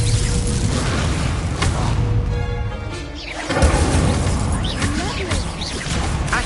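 Expelliarmus spell cast during a Hogwarts Legacy duel, a dense booming magical burst with whooshing layers, steady and loud throughout with a brief dip before a fresh surge of crashing effects.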